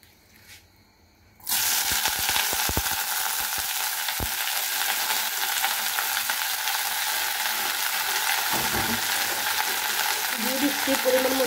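Chopped tomatoes hit hot oil in a pan where green chillies were just fried, bursting into a loud, steady sizzle after a quiet start, with a few clatters and stirring scrapes early on.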